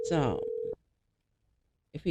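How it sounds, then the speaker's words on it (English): An outgoing phone call's ringback tone sounds as one steady electronic ring, clear and close, followed by silence and then a voice starting to speak. "Phone is ringing."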